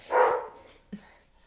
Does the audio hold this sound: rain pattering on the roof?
no